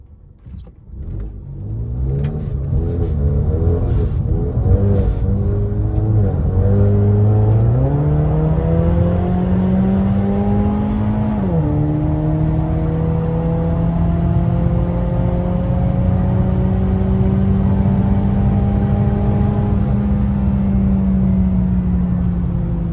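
A street car at a drag strip launches and accelerates hard while racing a Trans Am, the engine climbing through rising revs and a gear shift into a sustained loud roar close by.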